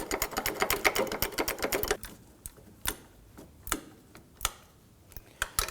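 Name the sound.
bolt being run in on Ford Focus torque strut mount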